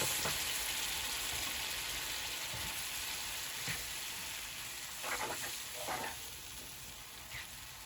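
A ground beef mixture cooks in a pan with water, giving a soft, steady sizzle and a few brief bubbling pops and scrapes; fairly faint and close, with no talking.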